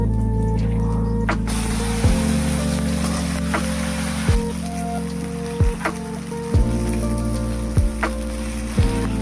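Okra goes into hot mustard oil in a wok over dried red chilli and nigella seeds, giving a steady close sizzle with a few clinks from stirring, and no voices.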